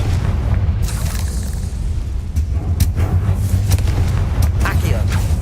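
Booming fire-spell blasts in Hogwarts Legacy gameplay rumble heavily under dense game audio, with sharp bursts cutting through a continuous low roar.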